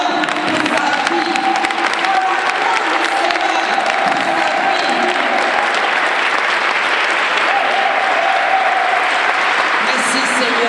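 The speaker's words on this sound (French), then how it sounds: "c'est le père fondateur, Clément Akobé, que j'aimerais qu'on acclame le Seigneur pour sa vie." A congregation applauding in a church, dense continuous clapping from a large crowd filling the whole space, loud and sustained, with voices faintly mixed in.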